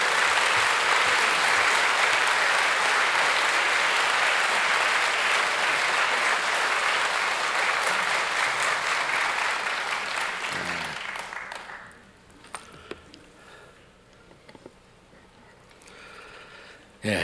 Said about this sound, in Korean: 우리 목사님 나오실 때 큰 박수로 한번 우리 환영하도록 하겠습니다